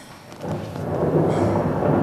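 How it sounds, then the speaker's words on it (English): Rain starting to pour, building from a low rumble into a dense, steady roar that grows louder over two seconds, heavy and close with a thunder-like low wash underneath. "It's really starting to rain."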